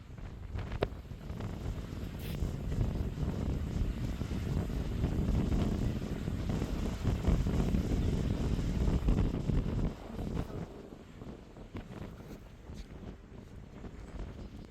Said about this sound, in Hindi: हवा की आवाज़ से आप समझ ही गए होंगे कि कितनी तेज़ हवा चल रही है